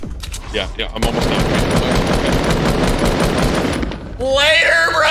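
Sustained automatic gunfire from a video game, aimed at a lightning cube, rattles loudly for several seconds with a dense rapid texture, then cuts off as an excited voice breaks in near the end.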